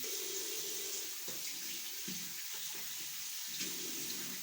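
Tap water runs steadily into a sink while skin is rinsed during a skincare routine, a continuous close hiss with small splashes and no talk.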